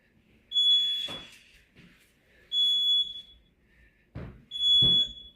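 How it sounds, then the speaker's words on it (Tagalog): A smoke alarm from a fire alarm panel sounds three loud, piercing beeps at regular intervals, with clattering noises between them. "Marumi ang smoke detector."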